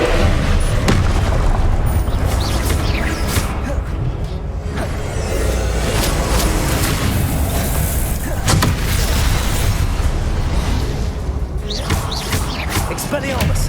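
Repeated fiery Confringo spell blasts in Hogwarts Legacy on PS5 thud and boom amid crashing impacts, sustained and loud across a chaotic fight, with a voice calling out spells over the din.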